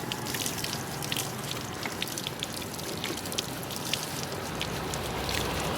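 Free-flowing public water outlet in Paete, Laguna, giving a steady close splashing and trickling with scattered drips, heard alone without talk.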